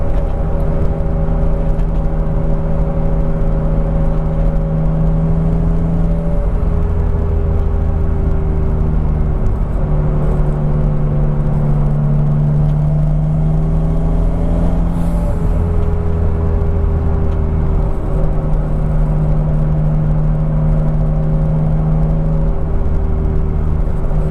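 BMW Z3 M Coupe turbo with a five-speed manual pulling hard through second and third gear on a test road, a steady loud engine drone whose pitch climbs, dips briefly at each shift, then climbs again.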